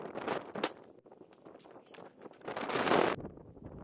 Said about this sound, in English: the wind continued in big gusts as well.